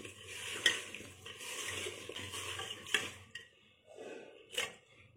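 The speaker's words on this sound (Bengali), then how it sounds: "একটু ভালো করে হাত দিয়ে মেখে নেবো। এটা হচ্ছে হাতে মাখা মাছ রান্না।" Fish, potatoes and onion are mixed by hand with turmeric and ground roasted cumin and coriander, giving soft, wet squelching and rubbing. Small clinks come from the bowl and the sound fades briefly near the end.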